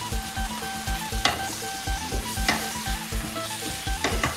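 Curry paste and lemongrass sizzle steadily in a pot for a northern Thai pickled bamboo shoot curry with frog, as a utensil scrapes and stirs in a regular rhythm, close and continuous.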